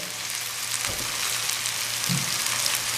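Capsicum and corn stir-fry on a high flame for fried rice, making a loud, dense, continuous sizzle with a brief stir or toss partway through, no voices.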